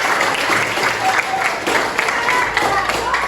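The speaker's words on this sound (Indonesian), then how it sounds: "Berikan tepuk tangan" A school class claps together, a busy patter of hands with a few voices mixed in, fairly close and loud throughout.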